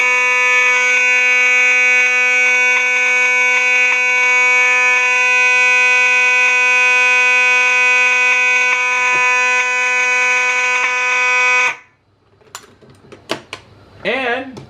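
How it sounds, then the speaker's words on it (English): A fire alarm wired to a power supply blares steadily and loudly for about twelve seconds after the pull station is pulled, then cuts off abruptly, leaving brief faint clatter and a short voice. "we're going to go ahead and pull the pull station"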